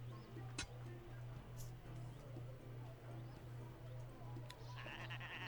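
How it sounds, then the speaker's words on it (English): Sheep behind a restaurant in the video game Summer in Mara give a series of repeated, evenly spaced bleats at moderate level, alone over a soft background with a couple of brief clicks. "I'm behind Awan's restaurant with his sheep."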